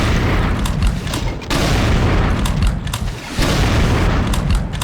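Super shotgun blasts in Brutal Doom, several heavy booming shots in a row at close range, each ending in a short reverberant tail with brief dips between them.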